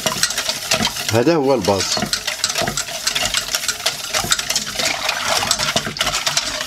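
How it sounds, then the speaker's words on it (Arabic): An egg mixture for a chilled lemon dessert is stirred continuously in a pot, giving a steady close scraping and swishing with quick rhythmic strokes, and someone talks over it. "دائما تخلط مستمر من فضلكم"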